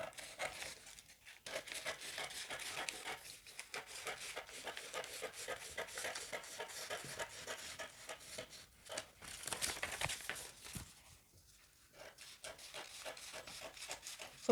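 Scissors cut through fabric for a princess-dart blouse, producing soft, continuous snipping and rustling close by with a few short pauses.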